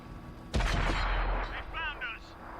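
A tank destroyer's cannon fires in World of Tanks, a single loud, sharp blast with a rumbling tail that fades over about two seconds, with game sounds chirping faintly after.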